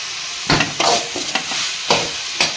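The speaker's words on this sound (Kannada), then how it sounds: "ಚೆನ್ನಾಗಿ ಈ ಥರ ಫ್ರೈ ಆಗಬೇಕು" Vegetables with a spoonful of soy sauce being stir-fried in a pan for vegetable noodles, a steady sizzle broken by several loud scraping stirs of a utensil against the pan, close up with no talking.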